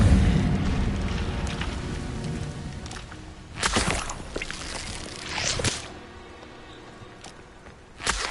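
Incendio fire spell cast in Hogwarts Legacy: a rushing, whooshing burst of flame with a couple of swelling bursts and a crackling tail, no voices over it.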